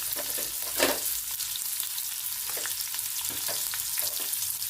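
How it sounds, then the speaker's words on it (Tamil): Chopped onions sizzle and crackle steadily in hot oil for sundaikkai thokku, with occasional stirring scrapes in the pan. "நல்லா இந்த வெங்காயத்தை நம்ம வந்து வதக்கிக்கணும்"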